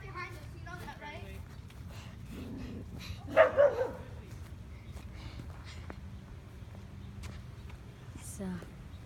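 Outdoors during a backyard Nerf war, a dog gives a short burst of barks partway through, heard over soft background noise, footsteps and scattered voices.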